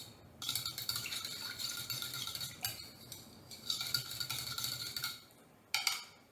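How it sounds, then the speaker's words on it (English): A utensil stirs instant yeast into water in a bowl for sandwich bread dough, with steady scraping and clinking strokes that pause briefly and then resume, close and clear, with no talking. "let's stir in that yeast"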